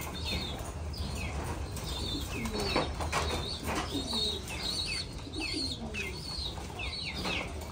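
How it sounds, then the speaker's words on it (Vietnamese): American giant pigeons in a Thai-style cage, a pair nesting, giving repeated soft throaty coos at a steady pace, with occasional wing flutters and chirps over a constant low background hum. "Đây, ở trên cũng là cặp bồ câu vàng rơm này"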